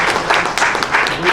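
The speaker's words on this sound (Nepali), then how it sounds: "ताली बजेर उहाँलाई" Brief burst of audience applause at a Rotary Club installation ceremony, scattered clapping mixed with a voice speaking over it.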